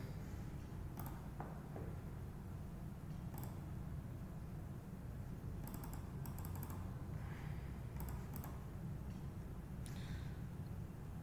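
Computer keyboard being typed on during a database lecture, with scattered key clicks and a few quick bursts of keystrokes over a steady background hum, fairly faint and with no talking.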